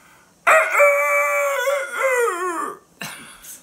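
An old rooster crows once, loud and close, a long drawn-out cock-a-doodle-doo that wavers at the end, followed by the start of another bird call.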